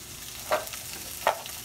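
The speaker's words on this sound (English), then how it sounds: "Get the rice separated from each other." Rice is stirred and fried in a pan: two distinct scraping strokes of a spatula, about a second apart, over a soft, steady sizzle.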